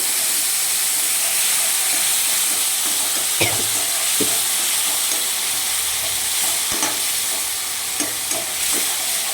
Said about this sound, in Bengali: লবণ মাছের সঙ্গে মিশিয়ে দিয়েছি অবশ্য আর একটুখানি দিয়ে দিলাম সামান্য একটু জল দিয়ে আমি কষে নেব